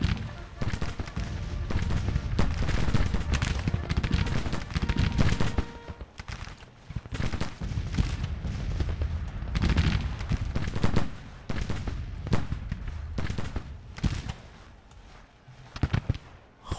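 Musket volley fire in a Civil War battle video game set at First Manassas, with dense crackling bursts of rifle shots rolling over several seconds, some sharper close volleys and more distant firing, a voice occasionally calling out over the battle.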